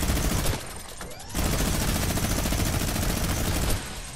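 Rapid bursts of automatic gunfire from a video game shooter, loud and nearly continuous, broken by a brief pause early on and a short dip near the end.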